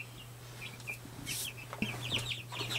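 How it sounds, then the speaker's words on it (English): Week-and-a-half-old meat bird chicks on a homestead, a scatter of soft, high peeping chirps repeating close by over a steady low hum. "So we're gonna start getting some of the meat birds in here."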